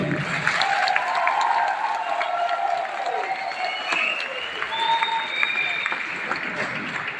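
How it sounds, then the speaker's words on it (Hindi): An audience at a company celebration event applauds steadily, a broad wash of clapping heard over a background voice. "तालियां उनके लिए थोड़ी सी कम है।"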